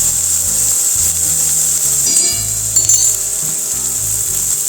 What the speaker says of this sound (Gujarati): થોડીવાર ચમચાથી હલાવી રાખીશું